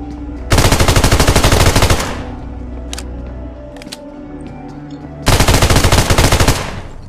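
FAMAS rifle fire in PUBG Mobile comes in two rapid automatic bursts of about a second and a half each, loud and close, separated by a quieter gap with a few faint distant shots.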